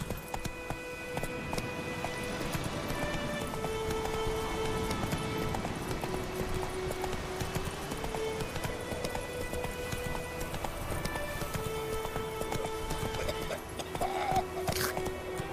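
Horse hooves clip-clop at a steady gallop through the whole stretch in The Witcher 3, moderately loud amid ambient game sound and a few brief tonal cues.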